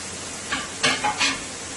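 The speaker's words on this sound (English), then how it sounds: "my onions frying up nicely there" A few short bursts of stirring and sizzling of onions frying in a pot, each lasting a fraction of a second, over a steady low hiss of frying.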